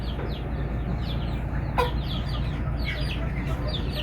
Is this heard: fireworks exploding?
no